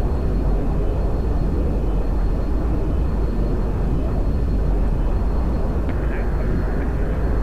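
Steady, broadband roar of a Harrier jet engine in Project Reality, a constant whooshing drone with no breaks, loud and close as from the cockpit.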